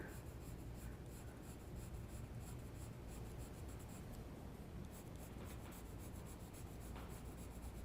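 A pencil moves lightly across paper while shading a horse head and neck portrait, making a faint, continuous close scratching with soft repeated strokes.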